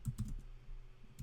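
Keys on a computer keyboard are typed in a short burst of several quick clicks, then a pause and one more keystroke, close and quiet.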